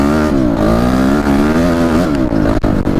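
Honda CRF enduro motorcycle engine running steadily in a higher gear, a loud, continuous close-up drone with slight rises and dips in pitch and a few brief knocks near the end.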